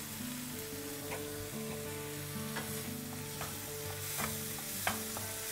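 Prawns stir-frying in a pan, a constant sizzle punctuated by repeated scraping strokes and clicks from the spatula, with a faint steady hum underneath.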